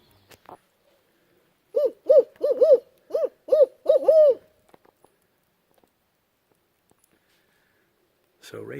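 A woman imitates a barred owl with a run of about eight rhythmic, rising-and-falling hoots, loud and close, in a quiet outdoor setting at a state park, followed by silence.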